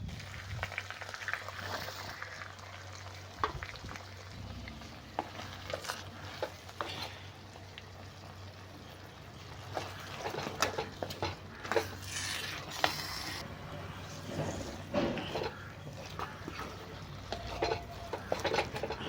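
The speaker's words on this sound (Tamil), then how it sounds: "மசாலாவை மரக்கறியில் போட்டு நல்லா மிக்ஸ் பண்ணி கொடுக்கலாம்" Masala being stirred into mixed vegetables for a Nagercoil-style aviyal in a pot, a steady run of scraping, clattering spoon strokes and soft squelches lasting many seconds, close by and with no voices.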